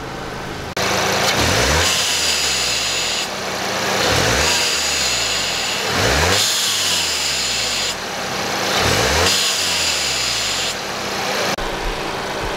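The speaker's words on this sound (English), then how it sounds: "I'm trying to let the engine get up to temp" A VW MK7 GTI fitted with a Forge blow-off valve warms up, its engine repeatedly revved and released in a regular cycle, each rise followed by a hissing release, close and fairly loud with no speech.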